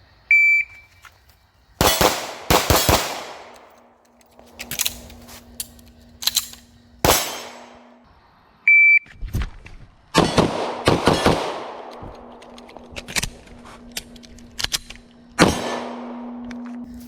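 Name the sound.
pistol shooting, fast shots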